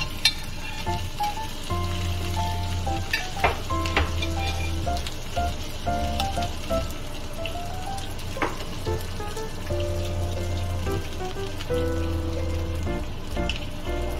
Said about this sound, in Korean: 밥과 부추가 잘 엉겨 붙도록 섞어가며 익혀주세요.